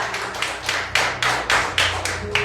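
A Pentecostal church congregation claps together during a communion service, producing a steady series of broad, fairly loud hand-clap bursts in an even rhythm with no talking.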